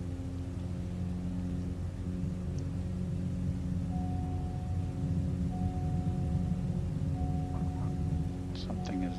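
A flight simulator aircraft engine runs at maximum throttle, a steady low droning hum that holds constant throughout, with a voice talking over it.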